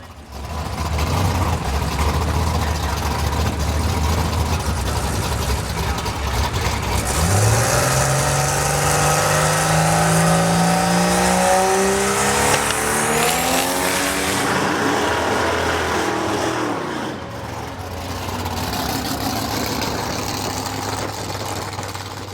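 A turbocharged drag car spools up at a bracket drag race, its engine note climbing from a low idle into a loud rising whine before launching hard and fading into the distance.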